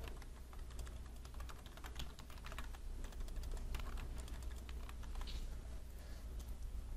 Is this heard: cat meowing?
no